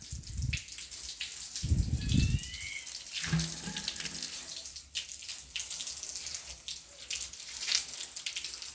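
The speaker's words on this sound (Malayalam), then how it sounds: "വെള്ളം ഒഴിച്ചൊഴിച്ച് വിടുവാണ്." Water pours and splashes while a fish tank is being cleaned, a continuous running gush with louder bursts and watery gurgles, close by and without talk.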